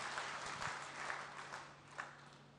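Faint, distant applause from an audience at a Hindi poetry gathering (kavi sammelan) in Rewari, Haryana, a soft continuous patter of clapping with a low steady hum beneath.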